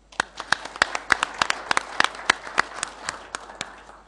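Applause from an audience at a press conference in Rome, a fairly close burst of sharp, irregular hand claps that holds steady for a few seconds and then thins out.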